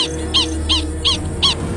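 Eagle calling high over a gorge: four evenly spaced, sharp, high-pitched call notes repeating about every third of a second over a steady low rumble, fairly close and clear with no voices.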